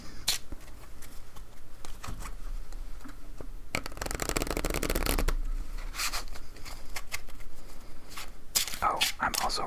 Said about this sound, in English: let's shuffle up for our last game